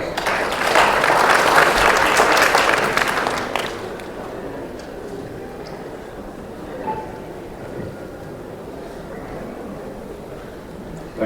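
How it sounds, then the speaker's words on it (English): An audience at a business conclave in Kolkata applauds the ICC president's introduction, a loud burst of clapping for about four seconds that fades into a quieter room murmur. "Give him a round of applause."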